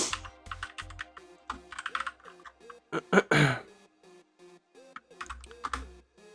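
Someone types code on a computer keyboard, with bursts of crisp key clicks and a few heavier clacks close to the microphone, separated by short pauses.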